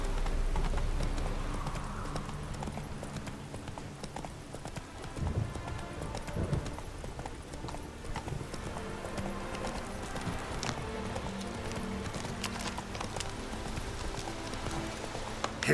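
A horse gallops in The Witcher video game, its hooves clip-clopping in a steady, fast rhythm. The hoofbeats are close and stay continuous, with a brief rumble and an occasional faint snort.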